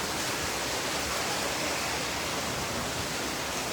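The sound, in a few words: heavy rain like a cyclone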